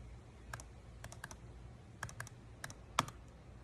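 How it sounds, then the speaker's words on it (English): Left button clicks on a Logitech computer mouse, a scattered run of light, crisp plastic ticks, some in quick pairs, close up and quiet with no voices. "Here's a left click"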